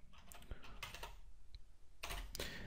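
Rapid clicking keystrokes on a computer keyboard as code is typed, arriving in short bursts with brief pauses between them. The typing is close and fairly quiet, with no talking.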